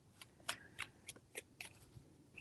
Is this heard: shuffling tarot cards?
yes